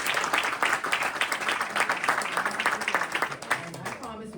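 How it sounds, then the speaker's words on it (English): A live audience at a financial education event claps for several seconds in an uneven, moderately loud burst, with a voice speaking over the clapping toward the end. "Let's give them a round of applause."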